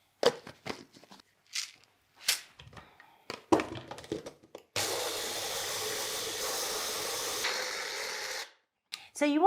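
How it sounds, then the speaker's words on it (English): A blender grinds about 300 grams of salt into fine powder, a loud steady whirring roar of several seconds that follows scattered handling noises and a brief voice. "So you want to give it a good 2 or 3 minutes in the blender to reduce it down to a very fine powder."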